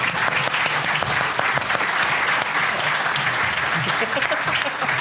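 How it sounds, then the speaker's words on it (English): A round of applause from a podcast audience welcoming a guest, dense clapping from many hands with voices mixed in, steady and fairly loud across the whole stretch. "Round of applause for Clark Bursker."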